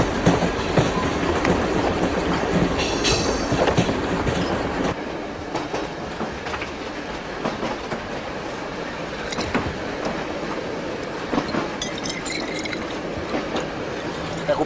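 A passing train rolling by close, its rail cars beating out a steady clickety-clack over a loud continuous rumble, with occasional faint metallic squeals.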